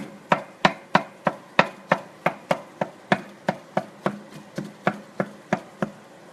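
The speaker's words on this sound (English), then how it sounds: "Just chopping up the beef." A steady series of sharp taps, about three per second, as a utensil chops browning ground beef against a pan, close by and alone.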